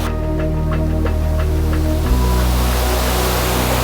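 Water pours down the steps of the overflow at Fateh Sagar Lake in Udaipur, Rajasthan, a loud, steady, close roar of rushing water that fills the whole stretch with no speech over it.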